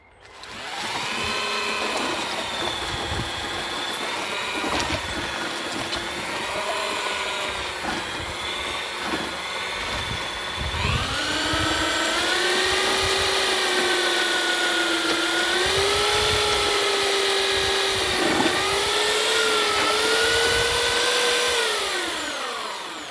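A handheld power mixer churns concrete for lion moulds, whining steadily for over twenty seconds, its pitch dipping and rising as the paddle bogs and frees in the mix, loud and close with no talking.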